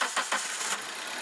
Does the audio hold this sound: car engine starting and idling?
yes